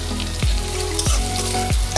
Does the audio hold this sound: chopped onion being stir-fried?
yes